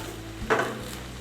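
Moringa leaves are lightly sautéed and stirred in a pan, heard as one brief scrape and clatter of a utensil against the cookware around the middle, over a quiet low hum with no talk.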